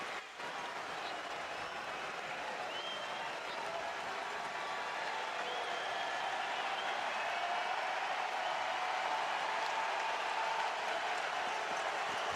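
A sellout crowd of more than 11,000 at a baseball stadium roars in a steady, distant wash of cheering during extra innings, sustained throughout with faint voices mixed in.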